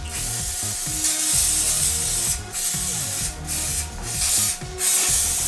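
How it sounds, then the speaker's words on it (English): Non-stick cooking spray hissing from an aerosol can onto a silicone bread loaf tin, in several short bursts with brief pauses, close and fairly loud. "I need to spray it down to make sure it's non-stick"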